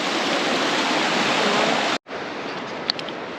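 A cold New Zealand river with a strong current rushes loudly and close by in a dense, constant roar, cut by a brief break midway before the flow resumes.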